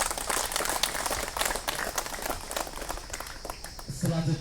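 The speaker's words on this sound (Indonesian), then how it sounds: "kita beri aplaus yang meriah" An audience at a village head inauguration ceremony in Lumut claps steadily for several seconds, dense and moderately close, before the applause tapers off.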